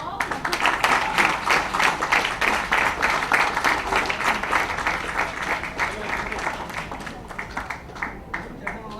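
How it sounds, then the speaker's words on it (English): A book launch audience claps in a sustained, dense round of applause lasting several seconds, loud and close, with some voices mixed in the crowd noise. "Big round of applause."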